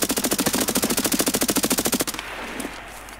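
Video game gunfire: a loud, rapid automatic burst of evenly spaced shots lasting about two seconds, then quieter background game sound and one faint final pop.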